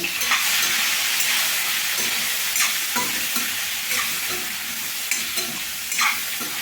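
Stuffed brinjal frying in a pan, a steady close sizzle with repeated spatula stirring scrapes every second or so, no voices.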